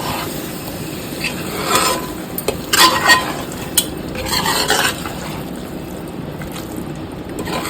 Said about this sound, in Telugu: ఒకసారి అంతా కలిపేసుకోవాలి.